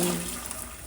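Boiled potatoes for mashing are tipped into a strainer, releasing a brief, close gush of draining water that fades within a second.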